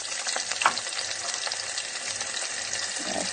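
Onions frying in hot oil with curry leaves for a sardine curry, a steady close sizzle running the whole time with a brief stir or clatter near the start.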